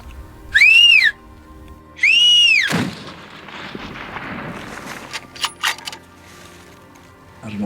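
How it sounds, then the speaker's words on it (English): Two loud, rising-then-falling whistles about a second and a half apart, made by a person while hunting wild animals on the West Coast of New Zealand, followed by a thump and quieter outdoor rustling. "Wait, should I whistle?"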